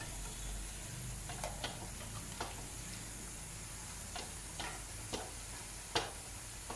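Cauliflower fries in a pan with a steady broad sizzle, while a spoon stirs and turns the pieces with scattered sharp scraping clicks; close, no voices.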